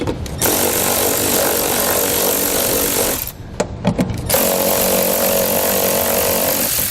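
A power tool with a 12mm socket runs loud and steady on fasteners on a 2019 Toyota Highlander, with two long whirring bursts around a short pause of clicks and handling noise.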